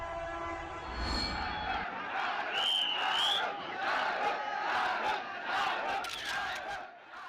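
Crowded platform at Vadodara railway station as the August Kranti train pulls in, a dense, loud crowd roar with shouting throughout and a short horn-like whistle sounding over it.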